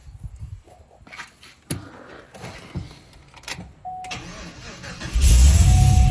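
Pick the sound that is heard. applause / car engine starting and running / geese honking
car engine starting and running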